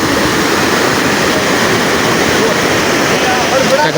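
Loud, constant rush of a river in the Gir forest during monsoon rain, filling the whole clip, a broad roaring wash with no pauses.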